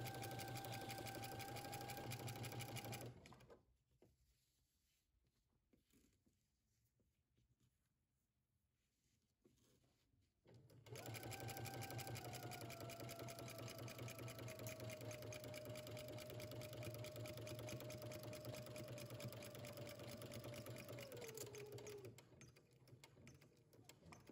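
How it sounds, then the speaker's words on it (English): A sewing machine stitching a 3/8 inch neckband seam on a wrap front dress runs steadily for a few seconds, stops briefly, then resumes with a long continuous stitching hum that slows near the end. "Now we're going to go to the sewing machine and insert a 3/8 inch seam"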